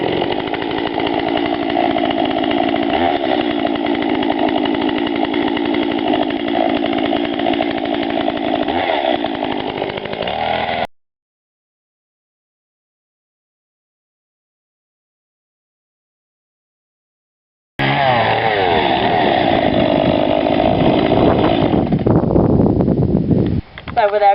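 A chainsaw engine roars loudly and steadily, cuts out for several seconds of silence, then starts up again and runs on.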